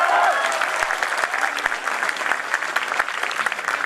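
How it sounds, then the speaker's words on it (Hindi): An audience at a poetry recitation breaks into sustained applause, a thick, even wash of many hands clapping that stays full throughout. "ताली बजा करके।"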